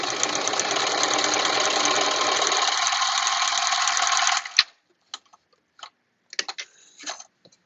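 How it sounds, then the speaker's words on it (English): A sewing machine runs a straight stitch along a fabric edge for a face mask in one steady, fast buzzing burst for about four seconds, then stops, followed by a few faint clicks and handling noises. "We're going to sew along the long curved edge, sewing machine and straight stitch"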